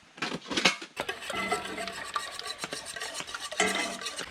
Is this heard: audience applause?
no